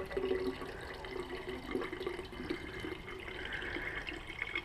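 Fresh coolant gurgling and bubbling as a car's engine cooling lines fill, a steady low-level trickle with small irregular glugs and bursts throughout and no talking.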